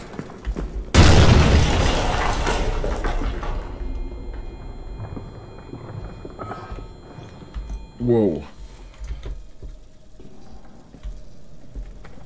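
A sudden loud explosion booms in the horror game Amnesia: The Bunker, followed by a long rumbling decay, then a sharp metallic clatter and quieter ambient creaks, with talk over parts of it.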